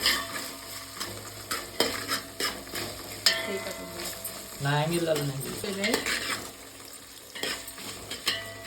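Ginger is stirred into a pan of sizzling food, with repeated metal scrapes and clinks of a spoon against the pan over a low fry, while a voice is heard briefly in the middle.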